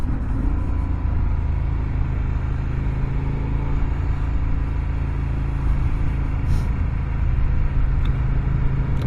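A KTM 1190 Adventure motorcycle on knobby tyres, its engine droning steadily while riding on a paved road, with a constant low rumble and wind noise throughout and no voices.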